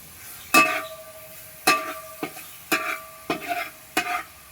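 Ginger-garlic paste being stirred into Kerala fish masala in a pan, a spoon scraping and clanking in several distinct strokes with a light sizzle between them, close and clear with no talk.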